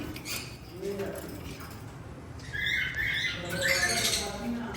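A roughly three-year-old female Alexandrine parrot, a breeder bird, gives a few squawking calls at moderate distance over a faint background murmur.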